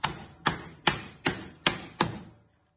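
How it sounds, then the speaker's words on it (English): A small cold chisel struck by a hammer to free steel angle iron from the wood of an old wooden toolbox rings out in six sharp, evenly spaced metallic blows, close and loud, each with a short ringing tail. "we're going to use a little cold chisel to help release the angle iron from the wood"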